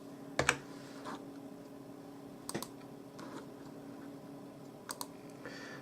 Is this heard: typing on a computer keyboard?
yes